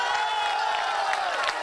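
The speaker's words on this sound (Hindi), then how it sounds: "इनके लिए भी ताली बजाओ जोर से भाई" Large outdoor crowd at a political road-show rally in Bengal, clapping and cheering steadily throughout, a dense continuous roar of applause with no clear pauses.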